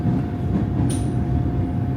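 An electric commuter train on Bangkok's Red Line runs with a loud, steady rumble of rail noise, and a brief high squeal comes in near the middle.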